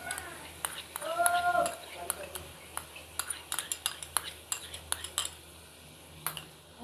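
Chicken, beaten yogurt and chopped chilies stirred together in a pan, with a spoon giving repeated light scrapes and clinks against the metal while a voice talks over it.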